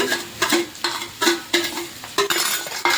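Carrot, spring onion and capsicum stir-fry in a pan for Manchurian, with repeated spatula scrapes and light metallic clinks over a steady sizzle, close up.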